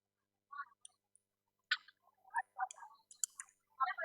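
Computer keyboard typing in short bursts of crisp, light clicks, irregular and close, with gaps between clusters of keystrokes and no talking.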